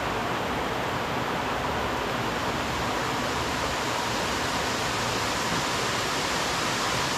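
Nalalata Falls roars in a dense, unbroken rush of falling water, loud and close, with no other sounds standing out above it.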